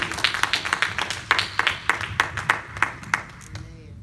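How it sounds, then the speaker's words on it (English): A church congregation gives a hand clap of praise to God, scattered claps in an irregular, loose rhythm over about four seconds, with a low murmur underneath and a quieter tail at the end. "Can we give God a hand clap of praise?"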